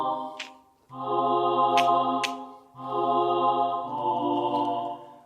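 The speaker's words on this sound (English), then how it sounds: "So I think I'm gonna go with this digital choir pad. I took the delay off" A digital choir pad synth without delay plays sustained vocal-like chords, two long swelling phrases separated by a short gap, with soft airy breath accents on top and no voices speaking.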